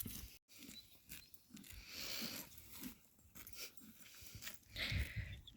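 A dog that has rolled in dirt is heard up close and faint, with soft snuffling, sniffing and small whimpering or chewing noises in an irregular pattern, no talking.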